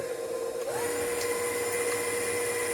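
A stand mixer whirs steadily through cupcake batter for chocolate Guinness cupcakes, a continuous close motor hum with a high whine, loud and unbroken, no voices.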